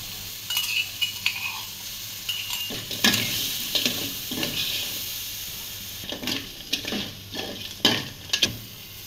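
Green chillies, onion, garlic and ginger fry in hot oil with a steady sizzle and hiss, broken by repeated scraping strokes of a spatula against the pan, heavier stirring bursts clustering toward the end.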